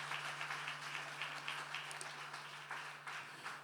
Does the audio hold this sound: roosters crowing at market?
no